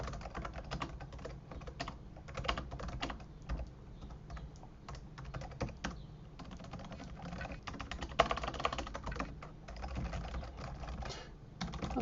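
Steady typing on a Microsoft Ergonomic Desktop keyboard, a close run of soft, quick key clicks in irregular rhythm with occasional louder presses, heard alone without talk.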